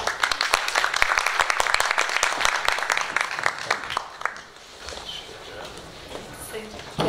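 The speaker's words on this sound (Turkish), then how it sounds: "Alkışlarınızı bitirelim" Applause fills an audience hall at a Turkish arts festival author talk, with dense clapping for about four seconds that thins to scattered claps and fades.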